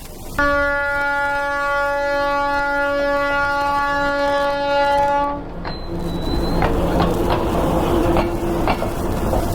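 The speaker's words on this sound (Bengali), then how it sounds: "মালগাড়ি এটা।" A freight train hauled by two locomotives blows a long, loud, steady horn blast, then its wagons rumble and clatter past close by for several seconds.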